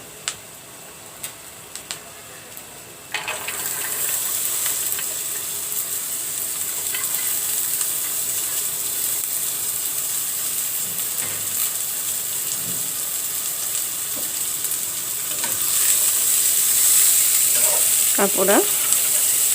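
Jackfruit seeds and bottle gourd peels dropped into a hot pan, the sizzle jumping up loudly after a quiet start and holding strong, with a few ticks and a stir scrape near the end; a brief word spoken early on.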